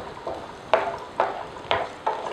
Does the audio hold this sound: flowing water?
no